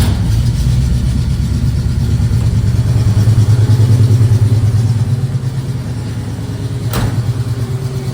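A 1969 Pontiac Firebird V8 engine runs steadily with a deep, throaty rumble, building slightly in the middle, then settling into an even idle.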